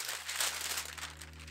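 Tracing paper handled for sewing pattern drafting gives a continuous crisp crinkling and rustling close up over a low steady hum, with no talking.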